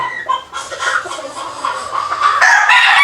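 A gamefowl rooster crows loudly and close, one long drawn-out call that rises and holds toward the end.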